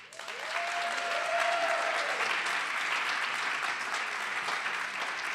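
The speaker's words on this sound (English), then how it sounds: "Can we keep the claps going, please? Keep them going." Sustained audience applause at an online live poetry jam, a steady wash of many hands clapping that holds evenly for several seconds, with a faint brief tone near the start.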